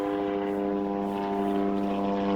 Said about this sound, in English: This is the most annoying plane in the world.